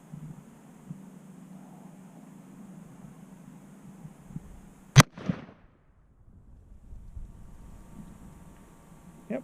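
A single sharp rifle shot from an H&R Handi Rifle chambered in 270 Winchester cracks out loud and close during sighting-in at a range, with a brief echo after it and faint wind noise around it.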